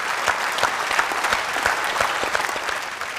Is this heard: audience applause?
yes